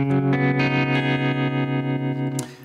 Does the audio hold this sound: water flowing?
no